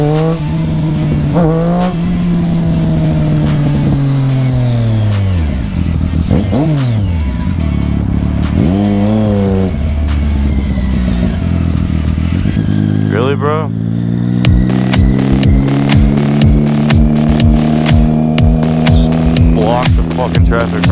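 Engines of cars and motorbikes in slow traffic rev, idle and pull away close by, with droning pitches rising and falling and bursts of acceleration throughout, loud and continuous.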